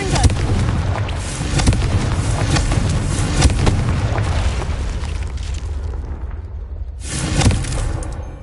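Confringo fire blast spell cast in Hogwarts Legacy, heavy booming blasts and rumbling explosions in a steady barrage, loud and close, with a short lull before another burst.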